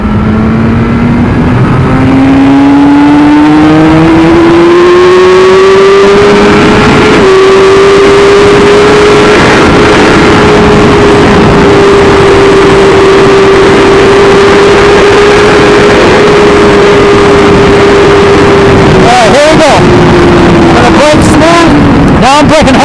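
A 2017 Suzuki GSX-R1000R motorcycle engine climbs steadily in pitch and holds high and loud, then falls away and cuts out under hard braking. Rushing wind noise runs close throughout.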